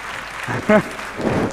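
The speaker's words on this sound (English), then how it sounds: "The crowd is just clapping for some reason." Crowd applause at an esports grand final, a brief, dense patter of clapping from the audience that stays fairly even over a second and a half.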